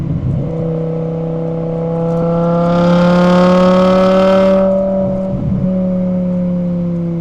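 A custom BMW E61 M5 Touring with a 6-speed manual drives on the road, its engine a loud, steady tonal drone that climbs in pitch and then eases off around a gear change, with no speech.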